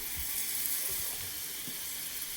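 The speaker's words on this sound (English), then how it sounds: "since it's starting to sizzle" A soft, steady sizzle of steak frying in a hot pan, faint and even throughout.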